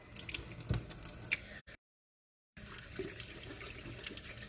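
Tap water runs while homemade butter is rinsed, a steady close splashing and trickling into a sink with dripping spatters, broken by a brief silent gap, no talk.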